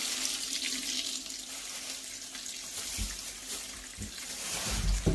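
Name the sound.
tap water filling a sink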